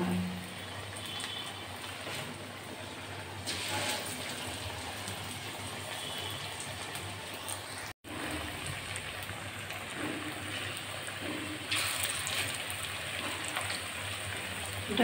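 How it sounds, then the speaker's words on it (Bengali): Battered cauliflower pakoras deep-fry in hot oil, giving a steady, dense sizzling hiss that runs throughout with slight swells and one brief dropout midway; no talking. "এটা চুবানো তেলেই ভাজতে হবে।"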